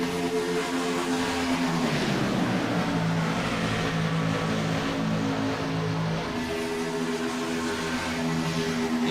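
Race cars running side by side at Daytona make a continuous loud engine drone, a dense roar with shifting pitch that holds steady throughout.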